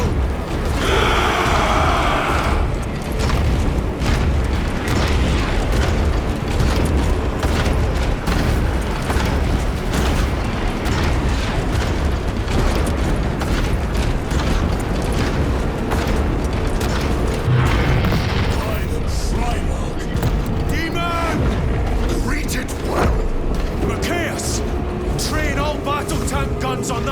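Gunfire and explosions on a Warhammer 40,000: Space Marine 2 battlefield, a dense, loud, unbroken barrage of booms and mechanical clatter mixed with shouted voices throughout.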